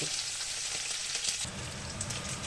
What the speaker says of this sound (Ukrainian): М'ясо в мене обсмажувалося на доволі таки інтенсивному вогні